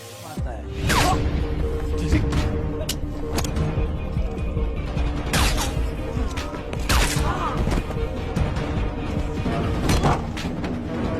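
Rapid gunfire bursts crack repeatedly over a dense, loud film action soundtrack with whooshes and impacts, sharp shots punctuating the continuous din.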